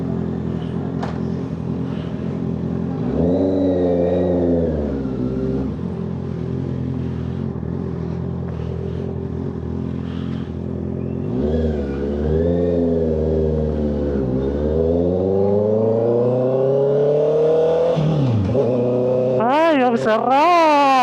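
A 2025 Honda CBR650R motorcycle with an SC Project exhaust revs repeatedly, the engine climbing and falling in loud, close bursts between idle, with people talking excitedly over it.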